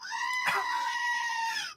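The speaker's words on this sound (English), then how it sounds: "Goat scream now." A screaming goat lets out one long, loud, strained bleat that holds steady for over a second before cutting off abruptly.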